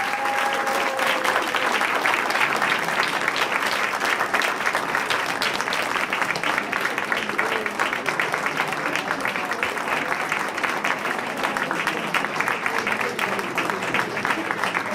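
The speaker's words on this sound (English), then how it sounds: "Please give them a warm applause." A large audience applauds at a European Capitals of Culture handover ceremony: dense, sustained clapping from a big crowd that holds steady at full strength for the whole stretch, with faint voices briefly underneath at the start.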